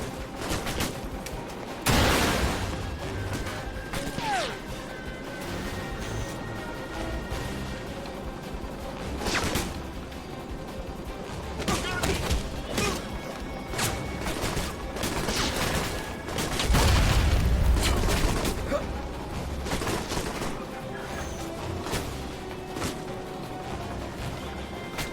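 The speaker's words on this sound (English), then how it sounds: "Are they shooting one another?" Gunfire from a firefight in the video game Alpha Protocol, with scattered sharp shots and bursts spread across a busy, moderately loud battle scene, with no voices present.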